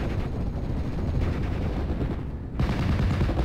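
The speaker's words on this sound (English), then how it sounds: "My mortars still laying down some pressure fire" Mortar and small-arms fire in the World War II strategy game Steel Division: Normandy 44, a dense, continuous rumble of battle with overlapping shots and booms, loud and steady, briefly thinning before surging again.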